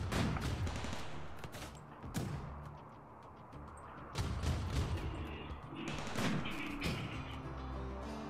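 Gunfire in the video game Rimworld, a string of sharp shots and short bursts, fairly quiet and spaced irregularly, with low background rumble and no talk.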